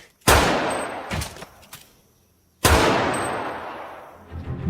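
Loud close gunfire from the film Hostile Forces: two heavy, booming shots a couple of seconds apart, each trailing into a long echoing decay, with fainter clanks in between.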